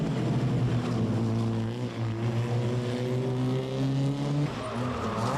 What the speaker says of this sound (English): the Civic VTEC was singing along on the long tree-lined straights